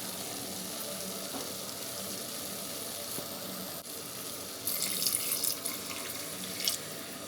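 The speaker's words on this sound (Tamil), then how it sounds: "தண்ணி ஊற்றிக்கலாம்." Water pours into a pan of sizzling masala for chicken kuzhambu, a steady rushing splash over faint frying hiss that swells louder partway through.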